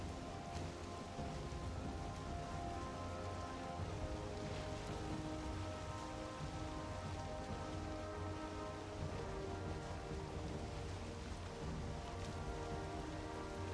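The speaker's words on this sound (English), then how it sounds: "it's raining in game and it's raining in real life" Steady rain falls in the video game Valheim, a dense, even hiss of drops on surfaces that continues unbroken with no voices.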